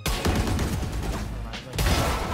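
Gunfire in Valorant: a quick run of rapid, punchy shots, then a brief gap before another burst, layered with game noise and voices talking over the action.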